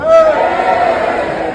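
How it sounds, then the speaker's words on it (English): An audience aboard a cruise ship at a farewell party cheers and whoops loudly, a dense, sustained crowd roar with a few raised voices standing out. "Give us a big cheer if this is your final night on board."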